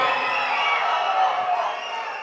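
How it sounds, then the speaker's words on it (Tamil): An audience shouts and cheers at the Mandaadi film audio launch, a dense, loud crowd roar sustained throughout with whoops rising above it, no single voice standing out. "இந்த கத்தல் இல்லை அப்படின்னா, இந்த கூச்சல் இல்லை, இந்த ஆரவாரம் இல்லை அப்படின்னா தொங்கியிருக்கும்"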